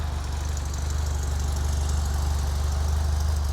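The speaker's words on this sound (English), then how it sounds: "It just falls right down back on idle from" A rebuilt Alfa Romeo 2.0L Twin Cam engine idling smoothly after a final tune, a steady close low rumble with an even, unbroken rhythm.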